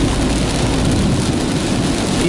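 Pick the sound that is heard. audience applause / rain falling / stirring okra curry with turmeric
rain falling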